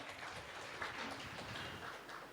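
A crowd applauding at a Christian family conference held at a boarding hall in Gunadala, Vijayawada: steady, dense clapping that holds evenly throughout, heard somewhat distantly and fairly faint, with no voices over it.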